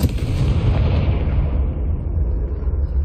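A Confringo fire spell blast in Hogwarts Legacy lands as a loud, continuous fiery roar with a heavy low rumble that slowly dulls over about three seconds, with no voices over it.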